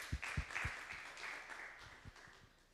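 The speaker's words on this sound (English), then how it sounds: "So just a quick round of applause for that." Scattered audience applause at a sustainable finance event, faint and thin, with a handful of distinct claps fading out over a few seconds.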